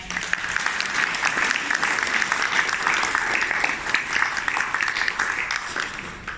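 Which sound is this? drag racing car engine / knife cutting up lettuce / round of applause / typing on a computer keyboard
round of applause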